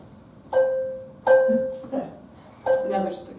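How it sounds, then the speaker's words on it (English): Three plucked handbell notes, each a sharp attack with a sustained ringing tone, spaced about a second apart and fading quickly, with a soft extra tap between the second and third. "the pluck,"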